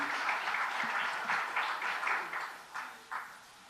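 Audience applause welcomes a speaker at a Tamil Nadu ceremony honouring Padma award recipients: a dense, steady clatter of many hands that thins toward the end, with a few louder bursts and no voices.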